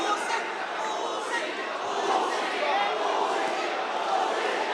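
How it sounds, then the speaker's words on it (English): Boxing arena crowd during a bout, a dense wash of cheering and chatter that swells and dips throughout, loud and continuous with no clear single voice. "every punch thrown by Jerusalem draws a roar of approval from the crowd"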